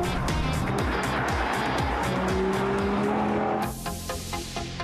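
Audi car with a five-cylinder engine and two oval exhaust tailpipes, driving with a loud, continuous engine roar and tire noise that drops abruptly to a quieter rumble near the end.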